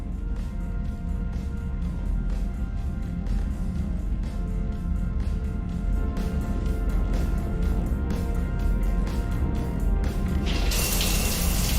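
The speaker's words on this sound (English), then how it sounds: "I figured you'd be more interested in a shower." Shower water running steadily in a Mass Effect 3 game scene, a continuous close hiss and splash of spray that swells brighter and louder near the end.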